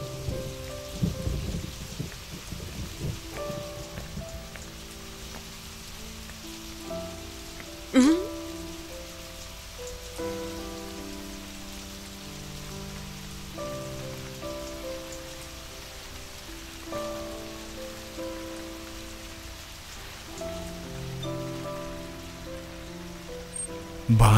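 Rain falling steadily with a soft wash of drops under a film score of sustained tones, fairly faint and continuous with a sharp knock partway through.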